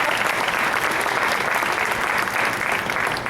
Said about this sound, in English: please, you guys can join me in a round of applause.